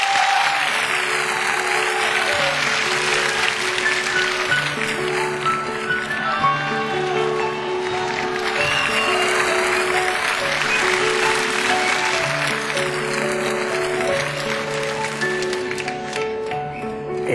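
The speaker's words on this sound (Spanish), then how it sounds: "Un aplauso fuerte." Loud applause at a live performance, a dense crowd ovation with a steady wash of clapping running under sustained music, holding strong for the whole span.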